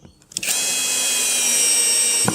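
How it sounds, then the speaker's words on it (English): A power drill drives screws into wooden rails, whirring loudly and steadily up close for about two seconds after a couple of short clicks and starts. "now we just screw the rails in to jam it in there"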